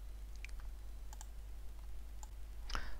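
A computer keyboard clicks in sparse, light taps, a few keystrokes spread over a few seconds. A louder clack comes near the end over a low steady hum.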